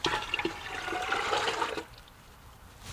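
Rainwater pouring from a barrel outlet into a pitcher, a close rushing gush of water for nearly two seconds that then cuts off to quiet.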